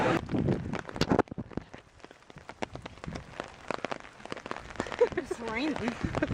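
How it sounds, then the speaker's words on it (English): Rain patters on a surface in Oakland, California, a close, crackling spray of drops varying in intensity, while people talk over it. "It's raining."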